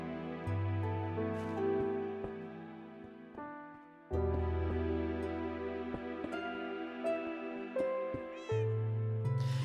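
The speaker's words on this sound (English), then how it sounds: "the cats are going to be so noisy while I'm working on this" Minecraft cats meow almost nonstop, many layered, wavering calls stacking and overlapping for nearly ten seconds, close and loud, with no one speaking.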